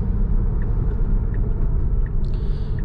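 A 2019 Tesla Model 3 Performance accelerating, a loud, steady low road and tire rumble inside the cabin with faint electric whine and a brief chime near the end.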